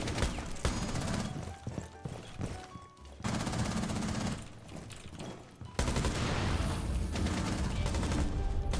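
Gunfire from the shooter game Rainbow Six Siege: dense bursts of rapid automatic shots in several long stretches, loud and close, broken by brief gaps, with a voice talking faintly underneath.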